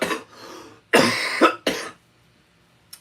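Three harsh coughs in close succession, loud and near, with a short breathy lead-in before them and quiet afterward.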